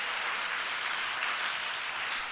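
A church congregation claps hands together in a dense, sustained burst of applause, an even crackle of many palms filling the room with no voices over it.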